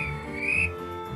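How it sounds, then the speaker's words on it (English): A train guard's whistle sounds in a short, faint, high tone that swells briefly, with a low rumble underneath. "the guard blew his whistle"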